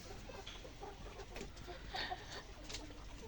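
Around a thousand ready layer pullets on a farm cluck and chirp faintly at a distance, scattered calls over a steady low background.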